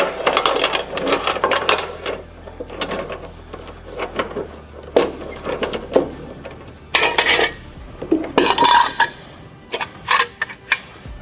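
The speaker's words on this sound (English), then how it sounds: "I'm going to utilize the same spool on this side, because I want my chain going straight across." A steel chain strung across a flatbed load of steel sheet metal, heard as loud, irregular metallic clanks and rattling links in separate bursts, close by and with no one talking.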